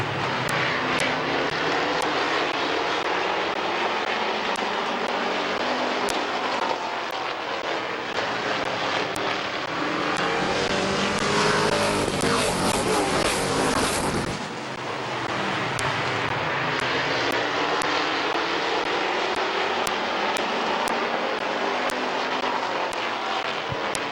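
Race cars lapping the Midvale Speedway, a broad continuous engine roar that swells to a loud peak as the pack sweeps past close by, then eases back to a steady drone.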